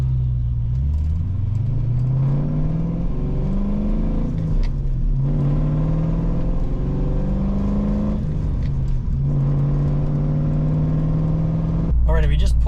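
A car fitted with a Vortech supercharger drives along, its engine droning and revving in steady rising and falling pulls, loud and close from inside the cabin, with the low rumble continuing throughout.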